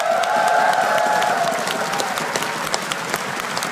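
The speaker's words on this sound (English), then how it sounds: "Round of applause, please." An arena audience claps and cheers at the EMS One Katowice 2014 CS:GO esports event, a dense, loud wash of applause that slowly thins into scattered claps.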